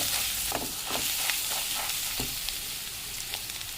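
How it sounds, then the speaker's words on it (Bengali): Turmeric and chili powder fry in a pan while being stirred for Bengali egg posto, with a steady close sizzle and occasional scrapes and clinks of the stirring spoon, and no talk. "আর 1 চামচ লঙ্কা গুঁড়ো দিয়ে দিলাম। দিয়ে এটাকে ভালো করে কষিয়ে নেব।"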